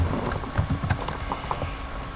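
Keys clatter on a computer keyboard in a quick, uneven burst of close, light clicks while someone types a short line of Python code, with no voices.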